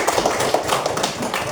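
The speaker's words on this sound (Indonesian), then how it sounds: "Tepuk tangan buat semua." Schoolchildren in a classroom clap their hands together in a brief, uneven patter of claps that sounds moderately close, with some faint murmuring beneath.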